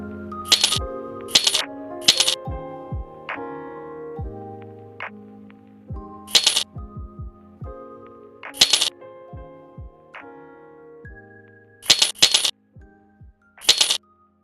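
Item-drop sound effects from a Granny-style horror game built in Godot, a series of clattering metallic thuds and bright clinks as objects hit the floor, spaced irregularly with occasional quick double hits, no speech.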